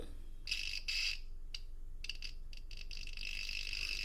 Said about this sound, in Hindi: तो भी अगर यहां पे टच करता हूं तो ये बीप साउंड करने लगता है